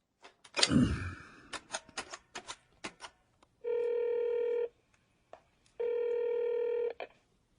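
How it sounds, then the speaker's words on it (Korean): An old push-button telephone is dialed: a string of sharp key clicks and brief tones, then two longer steady ringback tones with a gap between them, alone in a quiet room. "그리고 그 즉시 문희갑 경제수석에게 전화를 걸었다."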